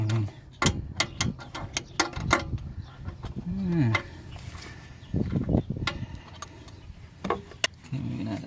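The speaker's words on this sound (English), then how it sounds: "And then we're going to take a wrench, stick it in here, hopefully without moving." Ratchet wrench clicking in short bursts while turning a bolt on a 1996 Ford 7.3 diesel engine, close and fairly quiet, with a pause partway through.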